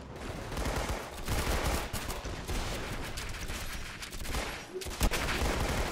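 Rapid gunfire in the Roblox game Arsenal, a dense, continuous crackle of shots with short pauses, loud and close, with no voice over it.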